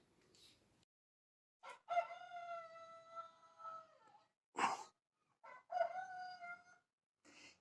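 A rooster crows twice in long, ringing cock-a-doodle-doo calls, separated by short sharp cries, loud and close against a quiet background.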